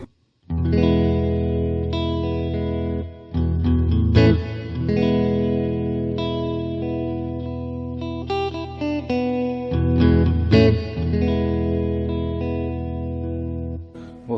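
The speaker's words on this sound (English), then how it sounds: "Let's kick the reverb in and see what it sounds like." Guitar chords ring out through the reverb of a repaired Roland DEP-5 effects processor, their notes sustaining and blending into a wash of lingering sound.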